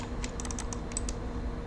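Short burst of light keyboard taps on a computer keyboard while modeling in SketchUp, about eight crisp clicks within a second, then quiet room hum.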